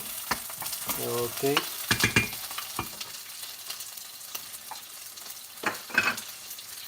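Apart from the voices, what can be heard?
onion being stir-fried in a pan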